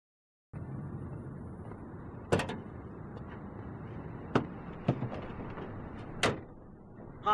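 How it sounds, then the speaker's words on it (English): Doors on a Polaris RZR, newly installed aftermarket lowboy doors, opened and shut to check free movement: a few sharp latching thunks and clacks over a steady shop hum, close by, with no talking. "Check the door for free movement."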